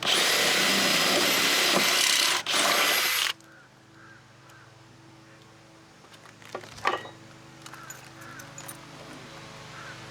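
A power drill bores into a wooden power pole for about three seconds, a loud continuous grind that stops abruptly. Quieter knocks and handling noises follow under a low background hum.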